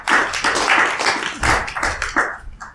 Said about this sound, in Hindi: ताली बजाओ सब इनके लिए।